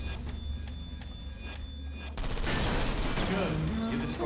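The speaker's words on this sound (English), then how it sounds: "The turrets are shooting the servers!" Automated turrets in the video game Portal Stories: Mel open fire on computer servers, a dense, continuous burst of rapid gunfire that starts suddenly and sustains loudly to the end, layered over game ambience and tones.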